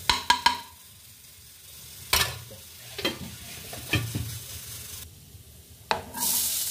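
A spoonful of desi ghee heats in a pan on a gas stove before vegetables go in for noodles; sharp metal clinks and scrapes come first, followed by a soft hiss that swells near the end.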